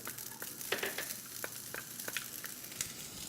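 Onion and thin noodles frying together in oil, a close, steady crackling sizzle with scattered light stirring ticks throughout and no speech.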